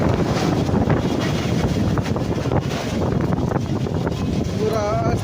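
Strong storm winds roar continuously against a tent during a violent gale, a loud, dense, unbroken rush with buffeting gusts close to the microphone and brief faint voices near the end.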